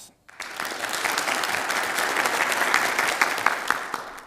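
A studio audience at a televised talk show breaks into applause, a dense burst of clapping that starts abruptly after a brief pause and carries on steadily to the end.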